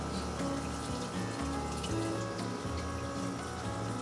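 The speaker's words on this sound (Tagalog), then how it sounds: "Kukunin natin ang yeast at kahalo lang natin sa tubig." Water splashes and swirls as yeast is stirred into stock water for culturing Daphnia magna, a faint, continuous liquid churning with small irregular sloshes and no voices.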